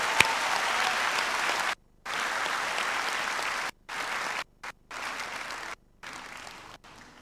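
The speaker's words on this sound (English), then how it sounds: "Let's give them another round of applause." Audience applause for a university choir at a graduation ceremony, loud and sustained in several long bursts separated by abrupt silent cuts, with no talk over it.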